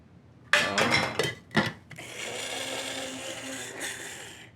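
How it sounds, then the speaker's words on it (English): Spice grinder pulsing cinnamon and spices for a barbecue rib rub, starting with several short loud bursts before a longer steady whirring grind close to the microphone. "I'm going to pulse the cinnamon first, just because it's a little more coarse, and then fit in some of the spices."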